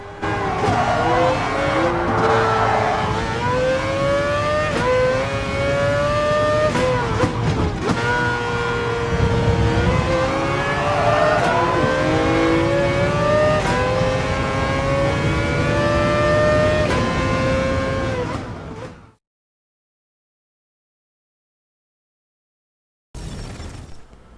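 Racing cars in a PlayStation 5 racing game roar and rev continuously, engines rising and falling in pitch as they pass, with a crash-like burst; the sound cuts out, then briefly returns.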